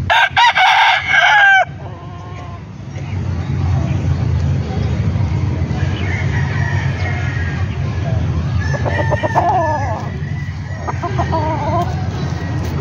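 Chickens crow loudly up close at the start, then cluck and call more softly against a low background hum, with a rooster-like crow rising again later; people talk intermittently.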